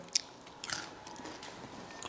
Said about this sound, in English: They're such a great crunchy snack